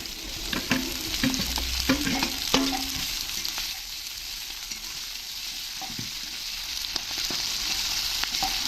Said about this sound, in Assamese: এতিয়া মেৰিনেট কৰি থোৱা মাংস যোগ কৰি দিছোঁ